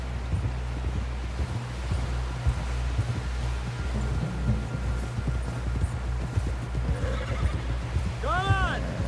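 In the Red Dead Redemption 2 video game, a horse trots with steady hoofbeats under wind noise and voices, then gives a sharp, loud neigh near the end.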